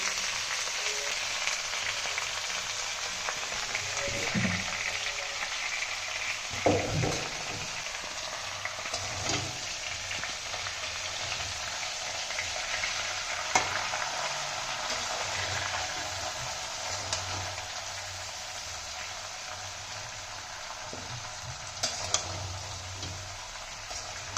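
Raw mango pickle with jaggery cooking in a pan, giving a steady soft sizzle and bubbling hiss throughout with occasional faint clinks, no talking.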